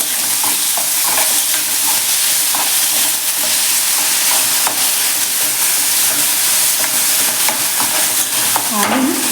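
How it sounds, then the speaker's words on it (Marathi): Finely cut potatoes sizzle loudly in a pan while being stirred with salt for a fasting bhaji, a dense, close frying hiss broken by scraping strokes throughout, with no voices. "आता आपण यामध्ये चवीपुरतं मीठ घालून घेऊया आणि मीठ देखील यामध्ये व्यवस्थित मिक्स करून घ्यायचं आहे"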